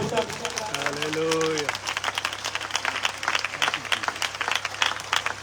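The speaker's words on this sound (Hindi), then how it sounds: "अपने दोनों हाथ उठा के जोरदार तालियां दी" A church congregation claps loudly with hands raised, a dense, continuous patter of applause filling the room after a sustained voice fades out early on, with people calling out underneath.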